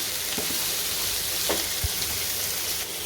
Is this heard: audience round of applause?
no